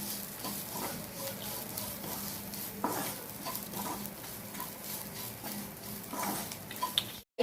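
A spatula stirs drumstick leaf fry (munagaku) in a pan, with repeated scraping strokes over a steady close sizzle; no speech.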